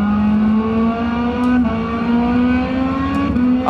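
A race car engine on a lap of the Hungaroring, driven fast in fourth gear, holds a loud, close, steady drone that climbs in pitch, with quick gear-change breaks and renewed climbs.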